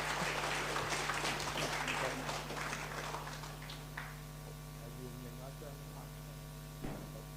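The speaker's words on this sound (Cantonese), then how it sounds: "咁不如我哋用掌聲歡迎陳醫生" An audience welcoming a doctor to a talk on elder mental health in Hong Kong breaks into applause that is dense at first and then thins into scattered claps over a steady electrical hum.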